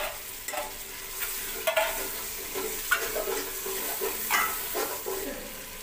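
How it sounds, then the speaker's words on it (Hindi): Half a kilo of chicken sizzles and fries in a pan while being stirred, with soft scraping strokes and crackling bursts at close range, fairly quiet overall. "ये आधा किलो चिकन इसमें ऐड करेंगे।"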